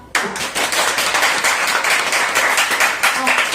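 An audience at a Taiwanese-language creative speech breaks into dense, steady applause that starts abruptly and runs on evenly, close and fairly loud.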